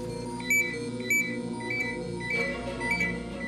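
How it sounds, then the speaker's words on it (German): A gas warning detector sounds its alarm during a fire brigade check of the air down a spring shaft, repeated electronic beeps pulsing over a steady droning background. "Plötzlich schlägt das Gaswarngerät Alarm."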